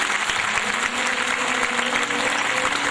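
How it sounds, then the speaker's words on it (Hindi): Loud, steady applause from a large audience at a Ram Katha in Karond, Bhopal, sustained evenly throughout with a faint tonal drone beneath and no voices. "सभी एक बार जोरदार तालियों के साथ उनका स्वागत कीजिए"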